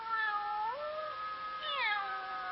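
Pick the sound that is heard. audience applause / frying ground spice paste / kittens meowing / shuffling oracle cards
kittens meowing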